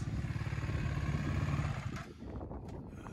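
A KTM 450 quad engine revving hard, a loud, rough, pulsing drone held steady that then drops away as the throttle is cut.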